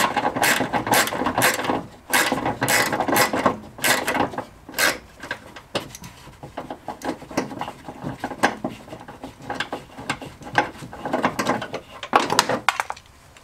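Screws being removed from the front bumper of a Peugeot 407 SW: rapid ratcheting clicks in bursts, close and crisp, fading into softer scraping and tool handling toward the end, with no talk.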